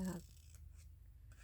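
Scissors trimming paper, a single brief snip at the start followed by faint soft rustling of the paper, quiet and close.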